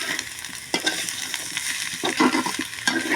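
Chili powder and cumin fry in a pan while being stirred. A soft, steady sizzle runs throughout, broken by a few louder scraping strokes of the spoon.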